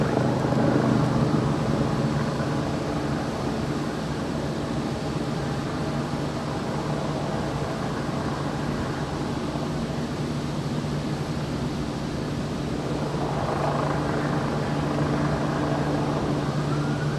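A helicopter in the Queen's Platinum Jubilee flypast, 2022, drones continuously overhead, its low rumbling rotor noise steady and fairly loud, swelling slightly near the end.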